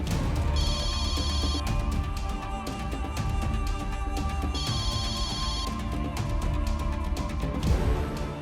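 A telephone rings unanswered in two separate bursts of bright, rapid trilling, a few seconds apart. The rings sit over dense background music that runs throughout, and no one speaks.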